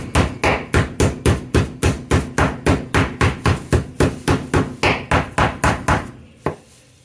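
Pork loin chops pounded flat with a meat mallet on a kitchen counter: about eighteen steady, evenly spaced heavy thuds, loud and close, ending in a pause and one last lighter knock.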